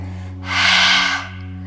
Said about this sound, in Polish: I tutaj mamy jeden ustami głośny wydech